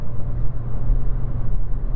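Engine of a Toyota Celica VVTi T230 running, a steady low rumble with a dull, uninspiring tone, close and loud for a couple of seconds.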